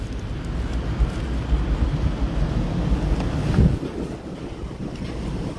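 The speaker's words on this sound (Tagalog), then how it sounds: "Lakas ng hangin." Strong wind roars continuously across the microphone, a dense low rumble with gusty swells and no talking.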